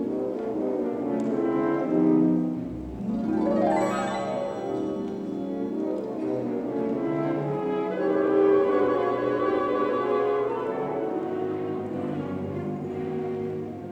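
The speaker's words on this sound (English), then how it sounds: "And then those rich, blurry harmonies like this." Orchestra sustaining rich, blurry impressionist chords from a Debussy sea piece, with a sweeping rising and falling run in the middle and dense layered harmonies swelling and fading.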